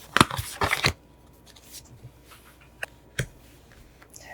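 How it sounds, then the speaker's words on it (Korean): Tarot cards are shuffled and flipped open: a cluster of quick, crisp riffling bursts near the start, then a couple of single sharp card snaps later, close and fairly quiet, with no talking. "3번 카드를 선택하신 분들 카드 오픈하겠습니다"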